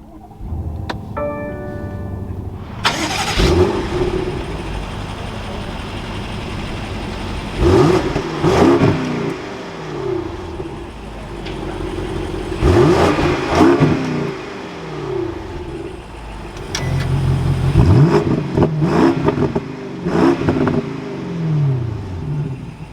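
A 2022 BMW Alpina B7 xDrive engine fires up with a loud start flare, then revs repeatedly in several close, strong bursts that each fall away before the next blip, with no talking.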